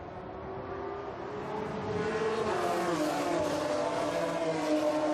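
GP3 Series race cars at Monza: a loud, continuous engine roar with rising pitch as the cars accelerate past, a steady dense wail throughout.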